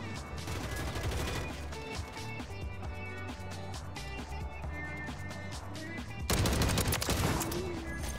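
Sidewinder gun firing in Call of Duty MW3, steady bursts of rapid gunfire running throughout and swelling louder near the end, with game sounds layered underneath.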